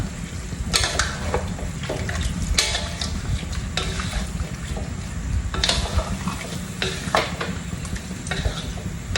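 Food sizzles in a hot pan as it is sautéed for Filipino chicken pastel, while a utensil scrapes and stirs in repeated bursts, with no voices over it.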